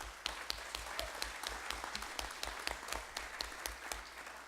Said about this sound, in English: let's give a round of applause to all of our speakers today